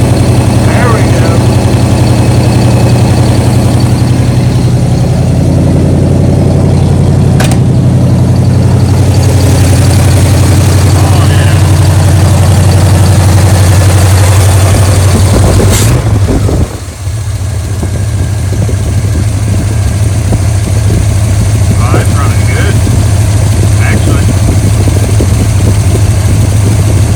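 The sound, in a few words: 1979 Cadillac engine idling after carburetor rebuild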